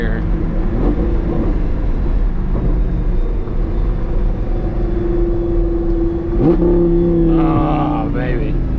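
A modded Audi R8 V10 with a loud exhaust pulls hard after a downshift, its engine note climbing steadily in pitch, heard from inside the car over constant road and engine roar, with a sharp blip near the end.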